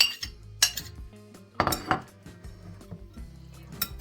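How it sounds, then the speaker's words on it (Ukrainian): Utensils scrape and clink against a bowl in irregular bursts, with a few louder knocks and rattles as salad with onion is mixed, close and fairly quiet. "Цибульку також додаємо, все перемішуємо."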